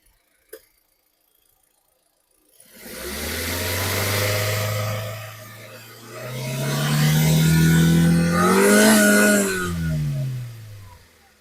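A 2017 Hyundai Grand i10 Sports petrol car starts after a brief click and near silence, then its engine runs with a low steady hum and rises through two revving swells before settling, close and without voices.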